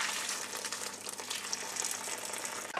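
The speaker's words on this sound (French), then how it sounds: "on va filtrer le bouillon" Soup broth for Phnom Penh soup is poured through a colander lined with cloth or paper towel, giving a steady close splashing, trickling flow of liquid that runs continuously with no talking.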